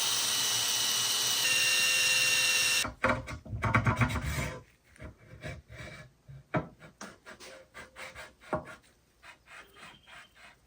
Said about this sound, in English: we're just gonna run the hone in up until the point where this fits snugly